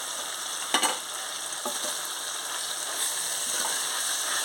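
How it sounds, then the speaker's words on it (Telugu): Mutton keema fries in oil with mint and coriander, with a steady even sizzle throughout and a few brief scraping stirs, the first one the loudest. "కీమాలోని ఆయిల్ అంతా సపరేట్ అయిపోయింది. కొంచెం వేగనిద్దాం."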